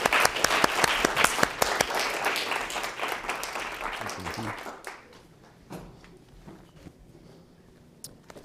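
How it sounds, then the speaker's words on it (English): Audience applause at an art center gallery discussion, a burst of many hands clapping that fades after about five seconds into a few scattered claps and faint shuffling. "give him a warm and welcoming round of applause"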